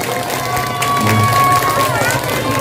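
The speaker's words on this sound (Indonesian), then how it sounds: "Tepuk tangannya dulu." A crowd claps and cheers at a volleyball tournament prize-giving during a public religious gathering, with sustained applause, shouts and children's voices mingling around a loud announcer's voice.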